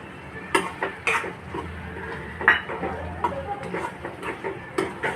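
Crushed peanuts stirred into cooked tomato in a pan: a spoon scrapes and taps against metal in uneven strokes, with a few sharper clinks, close up over a low background hum, no talk.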